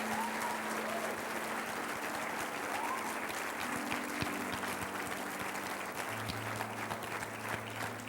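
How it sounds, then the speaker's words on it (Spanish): A church congregation applauding in thanks during a worship service, with sustained, even clapping from many hands that stays fairly distant and steady the whole time. "Dele un aplauso de acción de gracias al Señor"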